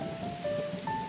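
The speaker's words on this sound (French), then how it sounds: "Et la pluie tombe continuellement." Heavy, continuous rain falling in Panama during the wettest season, a dense steady hiss of drops on surfaces with a faint tonal hum running beneath it.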